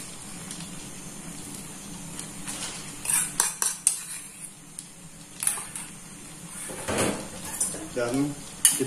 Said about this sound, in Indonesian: Dan kita aduk kembali supaya tidak pecah santan ya.